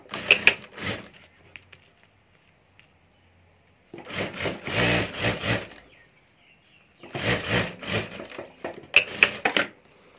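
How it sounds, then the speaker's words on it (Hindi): A sewing machine stitches the lining and zip of a homemade ladies' wallet. Three bursts of rapid mechanical clatter are separated by near-silent pauses. "तो यहाँ मैं सिलाई कर देता हूँ।"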